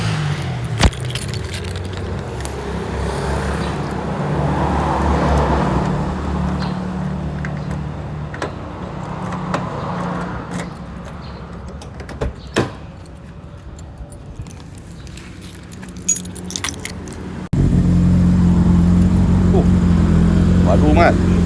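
A bunch of keys jangles and clinks in bursts near a car in a workshop while someone hunts for the right key, with people talking under the metallic rattling and a steady engine-like drone at the end.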